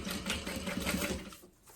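A sewing machine fitted with a walking foot, set to a long stitch length of 5, runs steadily around the outside edge of a handmade bowler bag, a continuous close rhythmic whir that eases off near the end.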